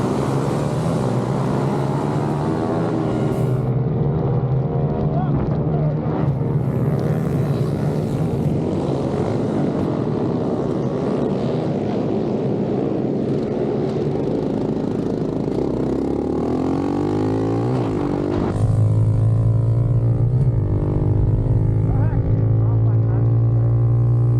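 Honda CRF110F dirt bikes race around a watered dirt oval, their small engines buzzing loudly and continuously, with a steady drone that swells near the end as a bike passes close.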